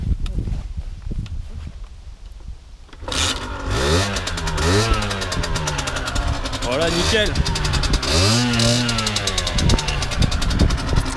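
A Rieju Tango 50 moped's small 50cc engine starts about three seconds in, then idles and revs up and down in repeated rising and falling sweeps, loud and close, while people talk over it.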